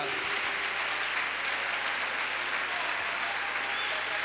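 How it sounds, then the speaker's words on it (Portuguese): A church congregation applauds during a sermon, a dense, steady wash of clapping from many hands that fills the whole moment, moderately loud and unbroken, with faint voices mixed in. "Você pode aplaudir mais forte, você pode glorificar."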